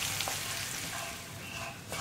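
Dried fish frying in a pan of oil for a chammanthi, a steady, close sizzle that crackles evenly throughout with no voices over it.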